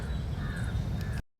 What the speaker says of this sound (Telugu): ఆ సౌండ్స్, బర్డ్ సౌండ్స్ ఉంటుంటే అసలు ఎంత బాగుందో తెలుసా నేచర్ మాత్రం ఇక్కడ